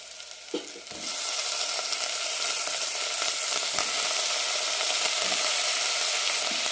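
Brinjal (eggplant) pieces for chutney dropped into a hot pan begin to sizzle and fry, a loud steady crackle and hiss that holds for several seconds with no talk.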